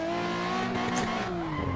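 A racing car engine in a drifting video game revs hard and steadily, its pitch climbing and dipping with a brief tire squeal, loud and close with no talking.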